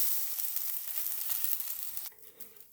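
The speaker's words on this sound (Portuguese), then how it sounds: "E agora o pimentão. Vamos fritar até dourar." Bell peppers fry in a pan with a steady, bright sizzle that crackles continuously, then abruptly quietens near the end as the heat or stirring changes; no voices.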